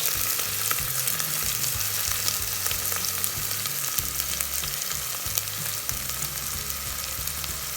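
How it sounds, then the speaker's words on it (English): Onions and cumin seeds frying in oil for a Bangladeshi chicken Madras, a steady broadband sizzle with occasional pops and stirring scrapes, continuous and fairly close throughout. "let the onions cook for maybe about 5 minutes or so in the oil"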